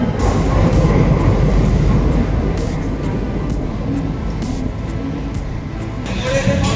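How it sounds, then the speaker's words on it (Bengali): The 12353 Lalkuan Express pulls into Howrah station with a loud, steady rolling rumble and rattling wheels, close by under a busy platform din. "আমাদের লালকুয়ান এক্সপ্রেস ঢুকে যাচ্ছে"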